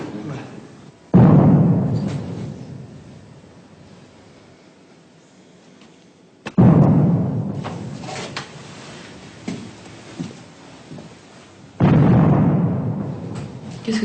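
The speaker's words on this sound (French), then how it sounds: "Les canons de la garde." Three deep, booming blasts from the guard's cannons fired as a salute in honour of Marat, spaced several seconds apart, each rolling out into a long fading rumble.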